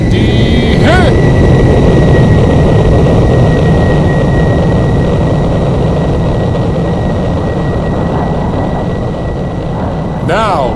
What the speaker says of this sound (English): This is the Raptor's final go-around.